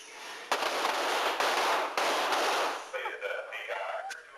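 Gunfire on a police academy shooting range during a qualifying test: several sharp reports crack out at irregular intervals, fairly distant, with some faint voices near the end.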